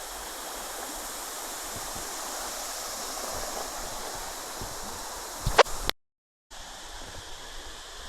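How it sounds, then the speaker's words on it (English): The fast-flowing River Khan in Laos rushes past in a steady broadband roar of moving water, with a brief handling noise and a short dropout near the end. "the River Khan, because it's quite fast flowing"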